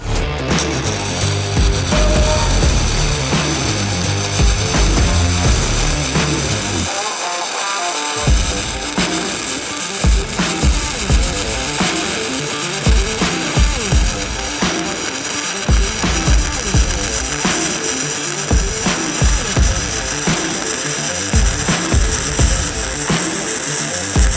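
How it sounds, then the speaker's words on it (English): Continuous crackling, sputtering buzz of a 110V flux core welder laying a weld for over twenty seconds, choppy and uneven, close up, with no talking. "I'm gonna do another weld."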